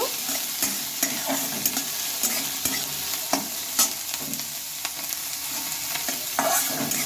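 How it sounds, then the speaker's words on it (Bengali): Spring onion greens paste sizzles and spits in a hot pan while being stirred, with sharp scraping strokes of the spatula cutting through the steady frying hiss at close range. "এগুলো একটু ভেজে নেবো"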